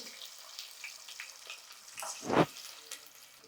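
Soft sizzling and crackling of tempering spices (seasoning for greens stew) frying in a pan, fairly quiet, with one brief louder splutter near the end.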